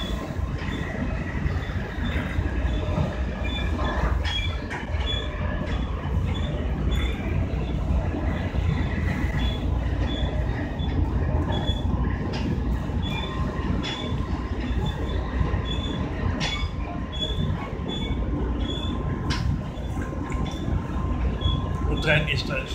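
A Dutch passenger train heading toward Utrecht rumbles steadily from inside the carriage, with constant low wheel and track roar, faint rhythmic clicks and occasional squeals, while passengers talk nearby.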